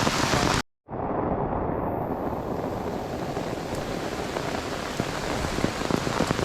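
Steady rain falls on a hiking trail near Upper Chindey Dadha, Sulikott, Dharan, a dense continuous patter of drops close by that cuts out briefly near the start, then resumes with scattered louder drips and no speech.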